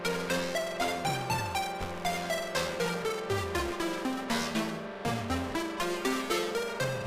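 A modular synthesizer arpeggio voice, with no sequencer, bounces up and down in quick, evenly pulsed notes, a bright, steady, repeating pattern of pitched plucks heard alone and up front.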